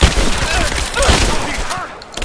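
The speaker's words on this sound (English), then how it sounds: "I'm taking fire!" Enemy gunfire in the video game Rise of the Tomb Raider, a dense, loud volley of rapid shots bursting throughout, with shouted voices over the shooting.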